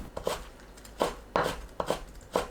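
A knife julienning rolled-up rinsed kelp into thin 2–3 cm strips on a cutting board, a run of sharp, evenly spaced chops close up, about a half dozen cuts with no talking.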